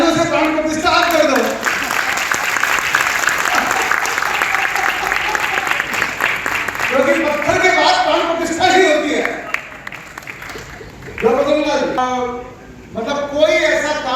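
A crowd applauds loudly and steadily for several seconds at an awards ceremony in Bhiwani, India, broken by short bursts of amplified voices and music-like swells.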